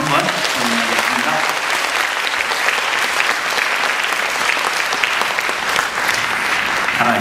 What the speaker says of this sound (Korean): 우리 박수로 한번 찬양하겠습니다